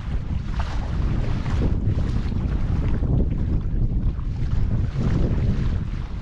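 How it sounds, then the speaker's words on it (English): Steady, loud wind buffets the microphone while kayaking a Dagger Katana 9.7 on Fremont Lake near Pinedale, Wyoming, a continuous rushing roar with faint water movement beneath it and no talking. "The wind has picked up a little bit at my back, which is awesome."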